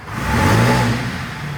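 A 2019 BMW C400GT ABS scooter engine revs up quickly, a close, steady mid-pitched drone that swells and then settles into a sustained whir, with no talking over it.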